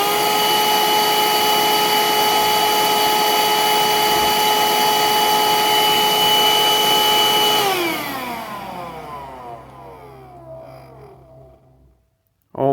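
A green Parkside cordless vacuum cleaner runs loudly with a steady tonal motor whine, then is switched off and spins down to near silence, followed by a brief click at the end.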